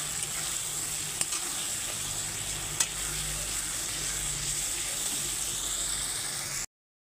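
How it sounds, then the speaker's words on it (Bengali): Mutton curry with spices is stir-fried in a pan, producing a steady close sizzle with a couple of sharp clacks of the spatula against the pan before it cuts to silence near the end. "এইবারে আমি ভালো করে কষাবো, অনেকক্ষণ ধরে কষাতে হবে, কষালেই তবে বেশি টেস্টি হয়।"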